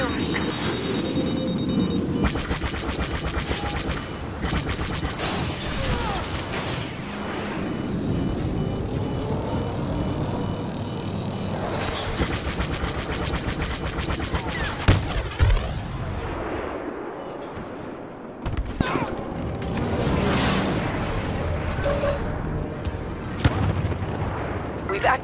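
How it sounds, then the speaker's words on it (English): Missile explosions and gunfire rumble through a snowy Hoth battle in the Star Wars Battlefront video game, with booms and shots layered densely and continuously over the whole stretch while voices talk over the din. "They launched a missile at you."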